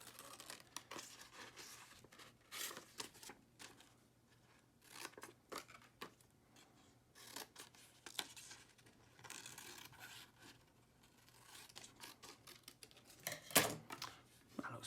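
Scissors snip through paper for a cubist collage, a run of quiet, close cutting and crinkling sounds with short irregular bursts, one sharper snap near the end.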